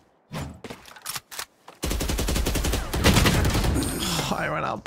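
Gunfire in the video game Valorant, with a few short separate shots and then a sustained loud burst of rapid automatic fire, while a player's voice is heard among the shots.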